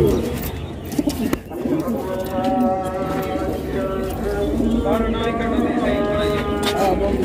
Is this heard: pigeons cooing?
yes